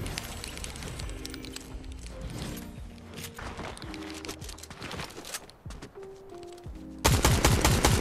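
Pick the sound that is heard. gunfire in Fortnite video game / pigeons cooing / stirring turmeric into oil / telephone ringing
gunfire in Fortnite video game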